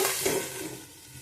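Turmeric and spices frying briefly in a pan for a potato, soya chunk and pumpkin dish, a soft sizzle with a stirring scrape that fades quickly.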